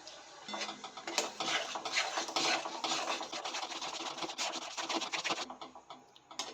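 A spoon scrapes and taps in a pan, stirring a masala paste of ground almond and cashew with a little kewra water for a cauliflower korma; the irregular clinks and scrapes run close and steady.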